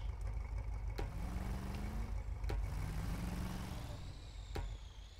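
Turbo diesel truck engine from the video game SnowRunner running steadily with a low, continuous rumble, a rising turbo whine spooling up and a few sharp transient clicks, with no talking.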